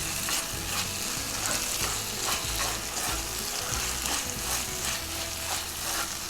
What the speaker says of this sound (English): I'm going to add this to the masala now that we are making. Saute it for a minute or 2.